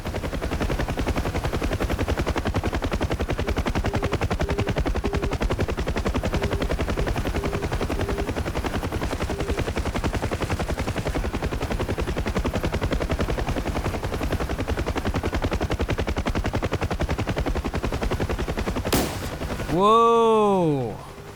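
A Huey helicopter in the DCS World flight game drones steadily with loud rotor thump while its AI door gunners rattle off continuous machine-gun fire, ending in a sudden swooping burst near the close.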